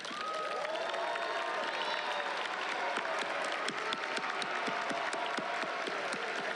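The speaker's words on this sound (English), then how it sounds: "Let's give them a big round of applause." A large crowd in a stadium at a graduation ceremony breaks into sustained applause, a broad roar of many hands clapping with some cheering and a few sharper nearby claps standing out.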